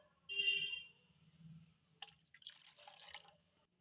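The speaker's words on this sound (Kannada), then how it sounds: "ಈಗ ನೀರು ಹಾಕ್ಯಂಡು ಹಾಕ್ತಾನೆ ನೋಡ್ರಿ" Water poured into a bowl for pani puri: a few short, quiet splashes and drips in separate bursts close by, with near silence between them and no talking.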